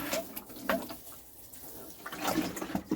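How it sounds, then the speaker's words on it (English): Water sprinkled lightly onto dusty potting mix while planting red potatoes and ginger at home, a soft close patter and trickle in brief uneven bursts. "And then I'll give it a slight sprinkle just to wet it."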